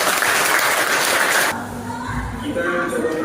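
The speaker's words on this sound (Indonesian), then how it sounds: "Oke, tepuk tangan buat Bapak." An audience breaks into dense, loud applause for a speaker, lasting about a second and a half before cutting off abruptly to quieter room sound.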